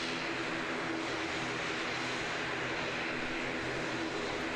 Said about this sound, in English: ATR taking off and an ATR parking up